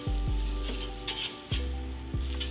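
Food frying on a small bent griddle plate over gas burners, a steady close sizzle with a few sharp pops and clicks, no talk.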